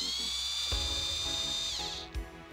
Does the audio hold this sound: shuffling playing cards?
no